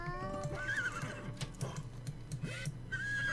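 A wild horse in The Sims 3 neighs and whinnies several times, with hoof clip-clops and game ambience underneath, fairly close and clear, with no talking.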